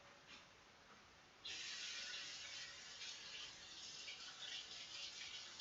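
Stuffed portabella mushrooms sizzling in a pan off the heat, a steady close hiss that jumps louder about a second and a half in and then holds on with no talking.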